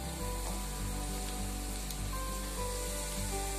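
Capsicum, carrot and beans sauté in a pan over a high flame, giving a continuous moderate sizzle with a low steady hum underneath and no talking.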